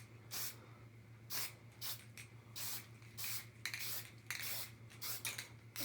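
An aerosol spray can hisses in repeated short bursts, each about half a second, as a light coat of paint goes over a model rocket, close to the microphone over a steady low hum.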